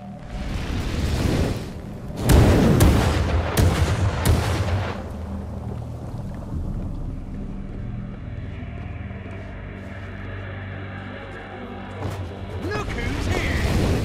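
Fireballs hurled from above in the fantasy game Lichdom Battlemage burst like mortar fire, several heavy booming impacts in quick succession, then fading into a rumbling background with someone talking over it.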